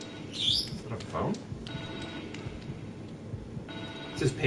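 A pager-like phone ringing in the horror video game The Evil Within 2, sounding as short electronic trill bursts at the start and again near the end over a dark, droning game ambience.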